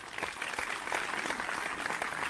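A small crowd's applause on a talk radio show, dense steady clapping that holds at an even level throughout, fairly close and without pauses.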